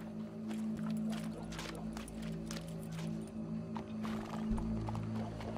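A horse in Red Dead Redemption 2 clip-clops and snorts close by, its hooves beating out an irregular rhythm over a low steady game ambience.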